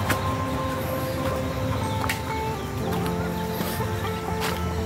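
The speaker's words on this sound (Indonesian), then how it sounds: "Ayam kampung guys." Free-range village chickens cluck softly on a morning in a village, amid a steady, noisy outdoor background, with a few sharp clicks and taps scattered through.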